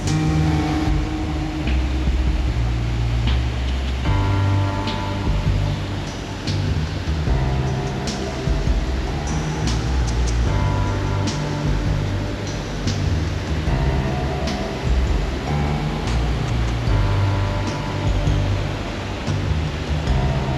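Continuous broadband rush of water at West Creek Falls in Rocky Mountain National Park, a steady loud roar filling the whole stretch with no speech over it.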